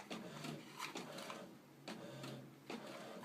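A home printer runs at a faint, quiet level with repeated mechanical whirring passes and clicks, each stroke followed by a short pause, with no voices over it.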